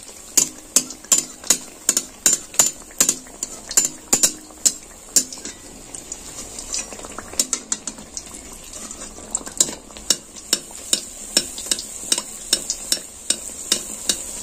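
Dough fries in hot oil while a utensil repeatedly splashes the oil over it, making a steady sizzle broken by sharp, regular clinks and splashes, close and loud.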